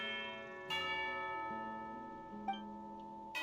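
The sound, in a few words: bell ringing for tea time, from video game Genshin Impact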